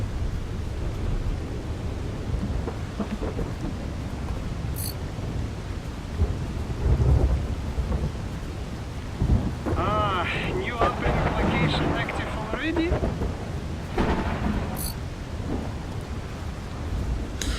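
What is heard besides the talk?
thunderstorm with rain in a video game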